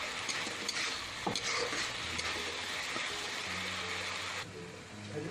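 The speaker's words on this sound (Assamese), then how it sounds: "এতিয়া মই ভাজি থাকিম" Ginger-garlic-chili paste frying and being stirred in hot oil, a steady sizzle broken by repeated scraping strokes of a spoon against the pan, close and continuous.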